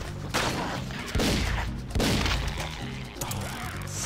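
Rapid bursts of gunfire from the zombie shooting game The House of the Dead: Overkill, with loud repeated volleys over a pulsing game soundtrack and several sharp impacts.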